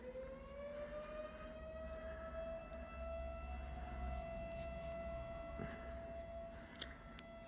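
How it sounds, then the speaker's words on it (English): Old-style civil defense siren wailing outdoors at a distance, a sustained rising and slowly falling tone, faint but clear against a quiet background. "Wow, you can hear that siren, right? That is loud."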